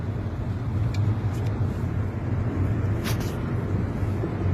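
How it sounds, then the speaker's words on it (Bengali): Car cruising on a long family road drive from Bangalore toward Coorg, a steady broadband rumble of engine and tyre noise inside the cabin with a few faint clicks. "এই যে আমার হাজবেন্ড ড্রাইভ করছেন।"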